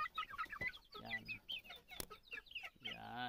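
Rhode Island and Shamo mixed-breed chickens cluck in a close, busy flurry of short calls, with one longer, drawn-out squawk near the end.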